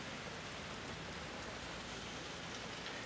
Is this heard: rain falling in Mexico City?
yes